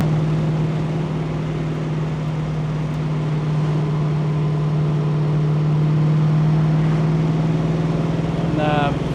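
A 1965 Ford Mustang convertible with a 500 hp Boss 363 crate engine cruises at speed, giving a steady, loud engine drone with road and wind noise throughout.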